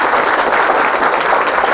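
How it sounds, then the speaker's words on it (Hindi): A room full of students at a coaching centre bursts into loud, sustained applause, dense clapping that holds steady and close throughout with no break. "इसके लिए एक बार जोरदार ताली हो जाए।"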